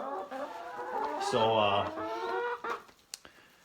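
Hens cluck and squawk inside a farm chicken coop in snowy weather, with several overlapping bird calls close by. A person speaks briefly over the flock.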